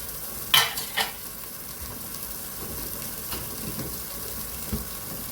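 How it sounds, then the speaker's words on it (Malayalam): Tomatoes and masala fry in a pan for Andhra-style green chicken curry, giving a low, steady sizzle with two sharp utensil clatters early on and lighter stirring afterward. "ഒന്നിച്ച് തക്കാളി ഇട്ടിട്ട് ഫ്രൈ ആക്കണം."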